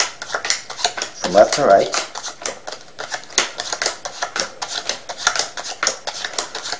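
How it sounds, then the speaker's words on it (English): Cards snap down one after another in a quick, steady rhythm as they are dealt into piles, with a person talking over them. "deal the cards into 3 piles"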